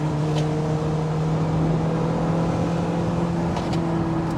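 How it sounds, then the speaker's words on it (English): A Lotus Elise 240 Final Edition sports car driven on a wet test track, a steady engine drone with a constant low hum, heard from inside and nearly unchanging throughout. "I'm driving my own Lotus on the test track."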